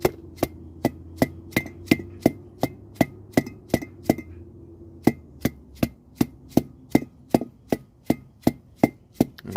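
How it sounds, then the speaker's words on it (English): Hammer tapping a greased wheel bearing race into place on a Jeep Cherokee front hub, a long series of sharp metallic strikes in a steady rhythm, close and clear with a brief pause midway. "using some sort of a hammer, just kind of tap it down into place."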